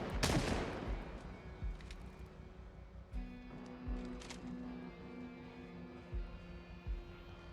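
Gunfire in Project Zomboid during a snowy drive-by: a loud opening burst followed by scattered single shots at irregular intervals over a constant engine hum, with no voices.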